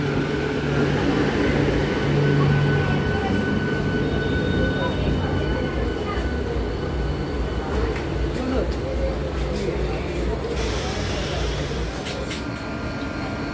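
A passenger train on the Amta to Howrah line rolls past with a steady, loud low rumble and a broad wash of noise that holds for the whole stretch, easing slightly near the end.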